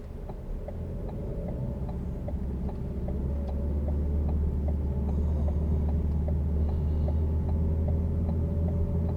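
A car pulls away slowly as the clutch is released, a steady low engine rumble inside the cabin that rises gradually, with faint regular ticking over it and no talking.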